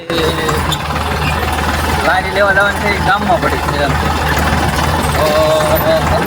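A tractor engine runs steadily on a bumpy road with a low, continuous rumble throughout, while a person talks over it.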